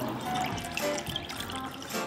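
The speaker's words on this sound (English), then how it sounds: "and then give it a stir" Gravy of oyster sauce, sesame oil and water being stirred in a pan, a steady wet swirling and trickling that fills the whole moment without a break, close and fairly loud, with no talking.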